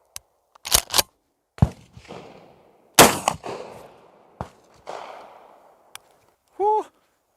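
A pump-action smoothbore gun fired with a slug at a 50-metre target, sharp loud cracks and clicks of the action spaced across several seconds, ending with a brief tonal squeak.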